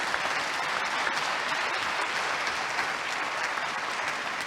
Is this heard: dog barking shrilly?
no